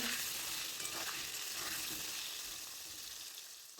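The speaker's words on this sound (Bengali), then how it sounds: "এবার তেলের মধ্যে পটলগুলো দিয়ে দেব এখন পটলগুলোকে আমরা ভেজে নেব" Pointed gourd pieces fry in oil for a vegetarian potato and gourd korma, making a continuous close hiss. Soft stirring scrapes sit inside the hiss, which eases slightly toward the end. No one speaks.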